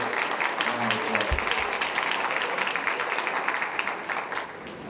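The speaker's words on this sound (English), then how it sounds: "Please stand and take a well-deserved round of applause" Sustained applause from a winter commencement audience honoring the class advisors, a dense steady clatter of many hands filling the hall, with a few low voices murmuring underneath.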